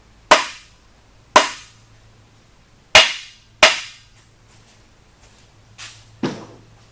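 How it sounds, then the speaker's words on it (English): A dead blow hammer strikes the crankshaft of an LS engine to seat the thrust bearing. Four sharp, loud, close knocks come at irregular intervals, followed by a few fainter taps, over a low hum. "take a dead blow, hit it on the front and the back to seat the"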